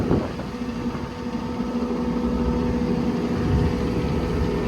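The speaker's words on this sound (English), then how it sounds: "Compressor pops right on." A truck-mounted air compressor on a 2017 Hino 338 switches on with a brief click, then hums and drones steadily at close range.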